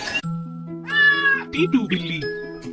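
In an animated children's story, a cat gives drawn-out meows and a whiny caterwaul, loud and close, alongside music or a voice in the scene.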